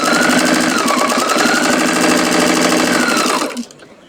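A sewing machine runs steadily, stitching fabric in a fast even whir for about three and a half seconds, then stops and leaves quiet room tone.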